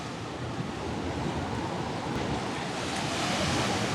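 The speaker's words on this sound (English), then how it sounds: "So the noise is the ocean." Ocean surf roars steadily alongside gusting wind at a windy seaside spot, a loud, continuous broadband wash that swells slightly toward the end, with no voices.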